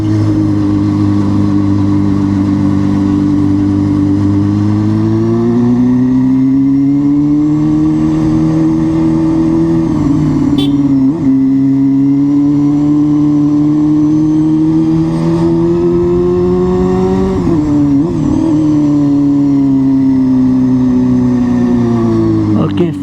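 A motorbike engine hums steadily while riding along a forest road near Haputale, Sri Lanka, with the revs rising and falling slightly and a brief bump partway through, under occasional speech.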